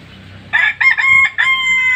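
A rooster crows nearby, a loud broken cock-a-doodle-doo in several bursts over faint low background noise.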